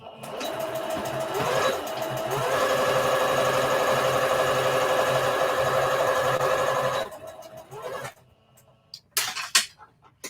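Sewing machine back stitching fabric for an Easter bunny treat bag runs in a steady, close mechanical whir for about seven seconds, then stops, followed by a few handling clicks.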